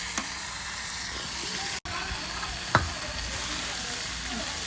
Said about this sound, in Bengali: মাংসটা হচ্ছে আমার ভালোভাবে মশলার সাথে কষানো হয়েছে।